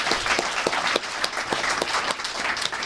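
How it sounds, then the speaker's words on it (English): A workshop audience applauds after capstone presentations, a modest crowd whose claps come through individually in an uneven rhythm, close and moderately loud, with no talk. "Let's do a final round of applause for the great presentations."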